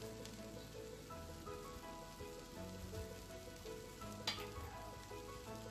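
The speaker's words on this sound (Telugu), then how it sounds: "అంతా ఒకసారి మిక్స్ చేసుకోవాలి." Spiced curry being stirred in a pan after chili powder and salt go in, a steady soft sizzle and scraping throughout with a brief sharper clatter near the end, no talking.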